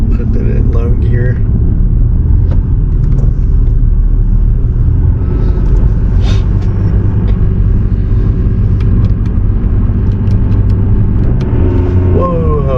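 A vehicle engine labours in low gear on a snowy mountain scenic loop road near Moab, Utah, producing a steady, loud, continuous rumble that stays close and dense throughout, with talking over it.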